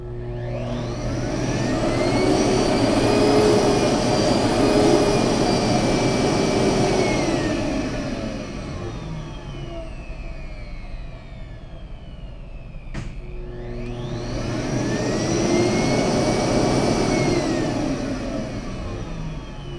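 A Beam SC300 central vacuum system heard from about a meter away: a steady, loud motor whine drones close by, swelling and easing twice, with a rushing airflow hum beneath and no voices.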